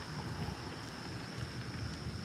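Morning wind on open water while bass fishing, a faint steady rushing buffet over the microphone with low rumbling gusts and no talking.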